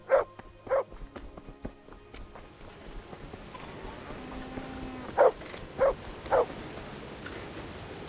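A dog barks in the medieval video game Kingdom Come: Deliverance, two sharp barks at the start and three more later, fairly close over quiet ambient game sounds and footsteps.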